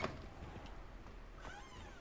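A small kitten meows faintly in the Hogwarts Legacy video game, a couple of soft high cries over a steady background hum, with no talking.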